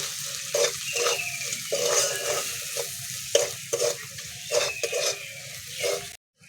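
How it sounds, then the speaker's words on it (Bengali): Chili and turmeric powder frying in a pan, a steady close sizzle broken by repeated scraping strokes of a spatula stirring the spices. "ভালো করে মশলাকে ভেজে নেব।"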